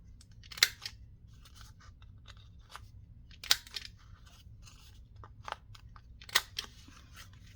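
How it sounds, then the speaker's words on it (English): Corners of a paper journal card being rounded with a cutting tool, giving several sharp, close snips and clicks spaced apart over quiet background. "So I'm going to round the corners because it is a journal card"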